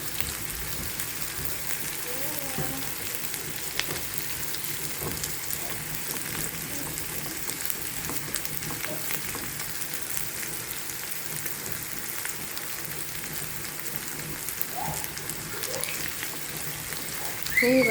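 Coffee boils on a stove with a continuous soft, crackling bubble, like light rain, steady and fairly quiet throughout.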